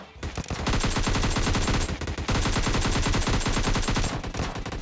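Rapid automatic gunfire in the Free Fire video game while finishing off a downed enemy, loud sustained bursts of rhythmic shots with a short gap partway through.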